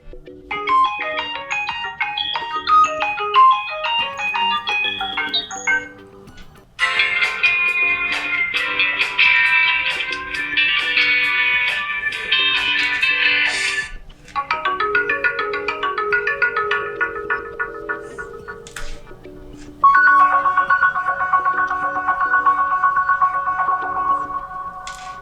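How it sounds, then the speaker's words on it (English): System ringtones on a Sharp B10 phone play one after another, several distinct electronic melodies in separate loud segments, clear and alone with no talk. "And here you can choose one from the system ringtone"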